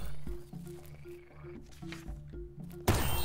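Frogs croak in the dungeon of the video game Rogue Heroes: Ruins of Tasos, a steady, evenly spaced run of low croaks under game music, ending in a sudden loud hit.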